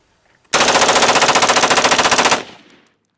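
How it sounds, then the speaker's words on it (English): Rapid bump-fire burst from an AR-15 rifle with a slide fire stock and a Timney trigger, about two seconds of fast, evenly spaced, loud close shots before it stops abruptly and echoes away. "AR-15 with slide fire and a Timney crit trigger. It shoots at about 3 pounds of pressure, so it should be able to go pretty quick."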